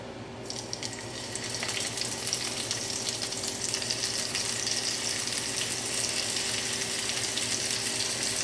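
Beef roulades frying in a hot pan, a loud steady hiss that starts abruptly and holds at an even level, close up with no talking.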